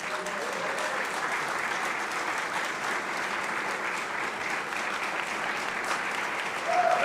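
An audience at a City of Dallas news conference applauds in a steady, sustained wash of clapping that holds at an even level, swelling slightly at the very end, with no speech over it.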